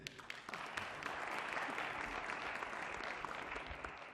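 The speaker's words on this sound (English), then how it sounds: "Please, just a massive round of applause for these two." Sustained crowd applause at a radio station's media launch for a royal heritage festival, steady dense clapping filling the whole stretch at moderate distance with no talk over it.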